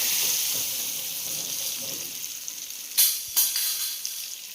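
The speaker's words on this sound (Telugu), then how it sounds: "ఆయిల్ షిఫ్ట్ చేసుకుంటున్నాము." Cooled oil pours into homemade tomato pickle, a steady hissy trickle that runs on for a few seconds before two sharp splashy bursts close together, then a fainter drizzle.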